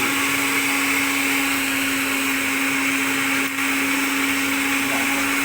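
A blender runs continuously on herbal ingredients with a loud, steady motor whine and grinding roar, unbroken apart from a momentary dip.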